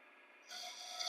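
A rasp or file scrapes a notch into a wooden part for an antique chair, a brief, quiet, close-up rasping stroke that grows stronger halfway through.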